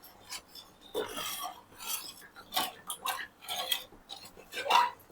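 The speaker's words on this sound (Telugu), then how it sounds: "ఈ విధంగా కలుపుకుంటూ వేసేసుకోవాలి." Halwa mixture being stirred in a pan, a series of scraping and clinking strokes of a utensil against metal, close and fairly quiet, in an irregular rhythm.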